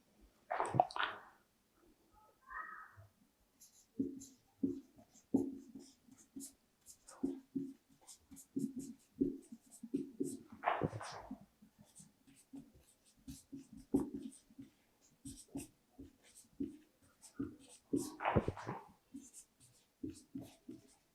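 Handwriting a Hindi sentence, likely pen on paper: close, soft scratchy strokes in irregular bursts, with brief pauses between words and no talking.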